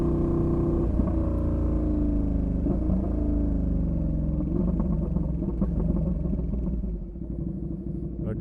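Ducati Panigale V2 sport motorcycle fitted with new DBK racing clutch plates, ridden at speed on a freeway, giving a loud, continuous engine rumble with rising and falling pitch as it accelerates, easing off near the end.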